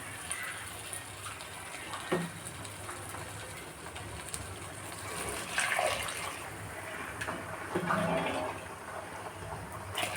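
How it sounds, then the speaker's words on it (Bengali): Hot water is poured onto rice frying in a pan for chicken biryani, a soft, continuous rushing and splashing at low volume that swells in a couple of spots, with no talking. "এখন আমরা চালগুলো একটু ভেজে নিচ্ছি তারপরে এখানে দিয়ে দিব গরম পানি"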